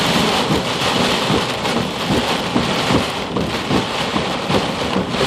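Heavy Florida rainstorm with dense, loud rain pouring steadily and low rumbling thunder underneath, continuous for the whole stretch without any voices.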